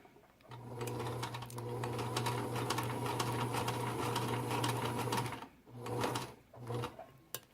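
Sewing machine stitching a dart on a bodice, a close, steady mechanical hum with rapid needle ticking for about five seconds, then two short further bursts of stitching.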